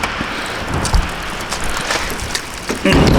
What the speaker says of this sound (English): it starts raining again, so we're gonna make this quick.